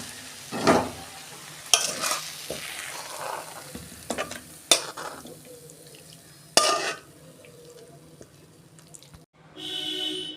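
Spinach being poured into a pan and fried for a Bengali palong shak dish: scattered loud bursts of stirring and sizzling separated by quieter pauses, ending in a soft, steady watery hiss.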